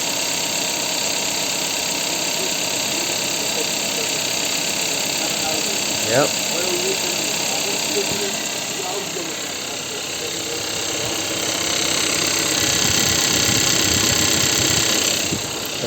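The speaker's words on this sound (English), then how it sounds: "Here is the engine. TGDI. And look at the engine sound." A Kia Sportage's turbo petrol TGDI engine idles with a steady hum and faint ticking, while a person speaks briefly nearby.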